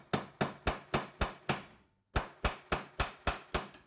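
A hammer strikes a knife blade on the anvil of a bench vise while flattening a puukko blade, ringing metallic blows in a fast even rhythm, about six, a short pause, then six more, close and clear.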